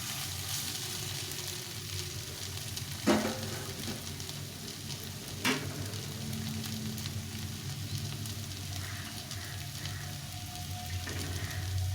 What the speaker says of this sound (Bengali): এটাকে মশলার সঙ্গে কষিয়ে নিয়েছি